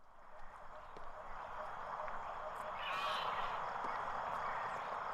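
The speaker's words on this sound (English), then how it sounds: "I hate this weird seagull noise." Seagull cries played from ride speakers at an amusement park in the video game PowerWash Simulator, a burst of harsh squawking calls over a constant power-washer hiss, fairly loud against the steady spray noise.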